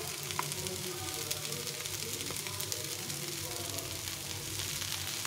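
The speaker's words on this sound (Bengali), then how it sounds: "লো হিটে আস্তে আস্তে ভেজে নিতে হবে" Food sizzles slowly on low heat in a pan, with tomato ketchup in the dish. The frying is a steady, soft crackle with light pops all through, close by and fairly quiet, with no voice over it.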